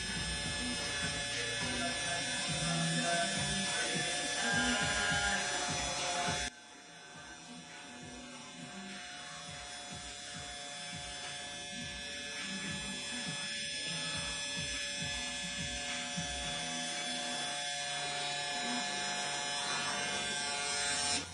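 Continuous buzzing hum of an electric hair clipper, used with no guard and the lever open while cutting a burst fade at a barbershop, close and steady, with a brief drop in level partway through.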